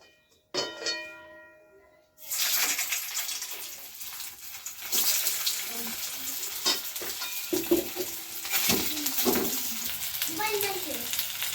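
Pithe dumplings dropped into hot white oil in a wok, then a steady loud sizzle and frying crackle with stirring scrapes throughout; a brief sharp note comes before the frying starts.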